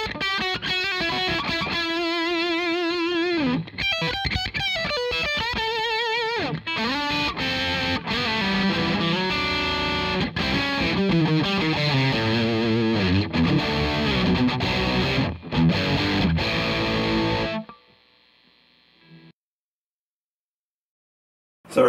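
A Warmoth Telecaster electric guitar played through heavy distortion, loud sustained chords and bent notes for about seventeen seconds before cutting out abruptly into near silence with a brief faint tone.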